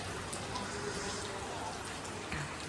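Rain falls in Mumbai as a faint, steady broadband hiss of drops on surfaces that continues evenly throughout, with no distinct sounds standing out.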